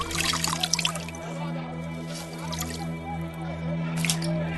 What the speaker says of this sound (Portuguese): Lavou as mãos diante da multidão